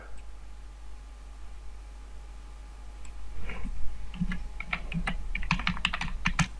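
Keys tapped on a computer keyboard while entering text in animation software, starting quietly after a few seconds of near silence and building into a steady run of close, crisp clicks over a low constant hum.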